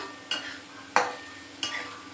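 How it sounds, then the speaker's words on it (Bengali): Potatoes fry in a pan, with three distinct stirring scrapes at regular intervals over a quiet background sizzle, heard close by. "নাড়িয়ে নাড়িয়ে আলুটা একটু বেশ ভাজাটা যেন হয় একটু লালচে কালার আসবে"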